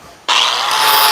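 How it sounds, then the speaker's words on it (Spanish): An angle grinder fitted with a flap disc spins up abruptly after a quiet moment and runs at a loud, steady high whine while cleaning a front axle spindle. "Pásame la pulidora con el disco flap."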